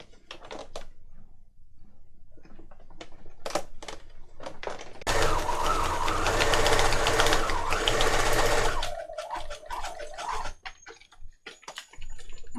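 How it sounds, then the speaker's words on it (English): A sewing machine runs a steady mechanical burst for a few seconds while stitching a pocket for a junk journal, then reverses briefly. Scattered clicks and handling noises come before and after, with no talk. "I'm just reversing a couple of stitches at each end just to lock the stitches in"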